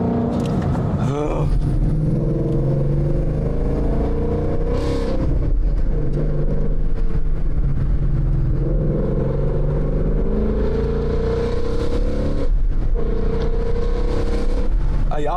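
A powerful car engine roars loudly and steadily, its pitch climbing and falling as the throttle is pressed and the revs build under acceleration, with a continuous deep rumble throughout.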